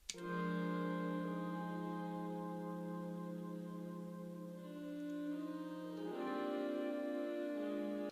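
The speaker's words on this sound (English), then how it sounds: "You take out all of the dry sound and only use the wet signal." A soft, sustained synth pad washed in reverb, smooth and airy with no sharp attacks, shifting chords midway and fading out at the end.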